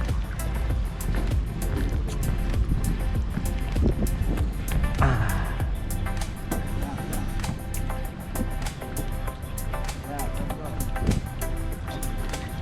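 A boat motor drones steadily crossing a river toward Gunung Tabur, Berau, with wind and splashing, while people talk over it.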